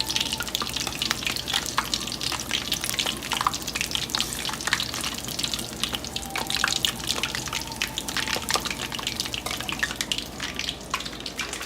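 Peppers fry in a pan for chili chaat, a dense continuous sizzle with scattered crackles and pops, steady and close, with no one talking.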